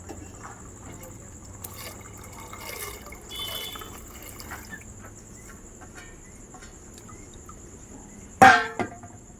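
Washed peas tipped into water in a pressure cooker make a short, loud splashing burst near the end, after a long stretch of quiet background insect chirping.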